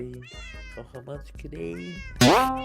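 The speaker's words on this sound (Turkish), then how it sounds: "Tamam bunlar benim kedim artık bunları koruyacağım." Cats in the video game Minecraft meow several times, short rising calls mixed with a person talking, ending in a louder burst of noise.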